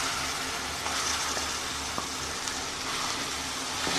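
Ginger garlic paste fries in hot oil for a pickle, giving a soft continuous sizzle with faint scattered pops and ticks, steady and fairly quiet from start to end.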